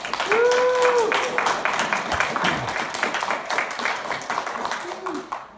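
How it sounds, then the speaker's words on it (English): Crowd applause for Becky Spink at a gathering, steady clapping throughout with cheers or whoops rising over it and voices mixed in. "everybody give Becky Spink a massive round of applause"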